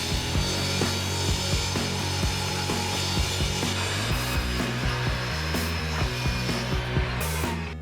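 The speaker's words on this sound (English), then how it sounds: "In the process of cutting out this board," A hand saw cuts a wooden board, about seven inches wide, while building an inexpensive sawmill guide, giving a steady run of close, rhythmic rasping strokes with no talk.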